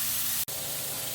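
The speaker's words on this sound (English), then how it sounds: "you can hear that great sizzle that's happening right now" Lamb burgers sizzle in a preheated cast iron pan, a steady loud hiss broken by one brief dip, with no talk.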